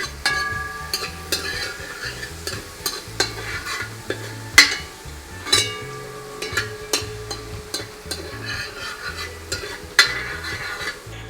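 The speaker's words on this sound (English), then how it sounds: "You allow it to saute a little, get out the fragrance." Aromatics sauté in a pot for Tobago curry crab, with steady close sizzling broken by repeated spoon scrapes and knocks against the metal, a clatter every second or so.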